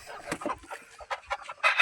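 Native desi hens that have just arrived in a delivery box in Rajgurunagar, Pune, give short, scattered clucks and squawks, close by and fairly soft, over about two seconds.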